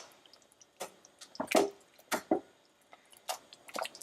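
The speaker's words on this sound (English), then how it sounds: "Now I'm going to give it a stir." Black rice and barley porridge gets stirred in a pot, giving wet squelching, sloshing strokes in irregular bursts with quiet gaps between, close by and without talk.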